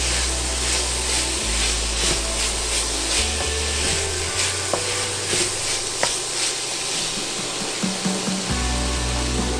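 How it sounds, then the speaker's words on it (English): Peppers stirred through a hot pan for chicken salsa pasta hiss in a steady, close sizzle, with scraping stir strokes and low clunks breaking through the continuous frying noise. "And we're going to give that a good mix again."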